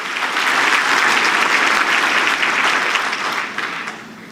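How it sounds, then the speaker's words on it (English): A graduation ceremony audience at a university spring ceremony bursts into sustained, dense applause from a large crowd, steady and loud before tapering off slightly near the end. "Yes, you deserve a round of applause."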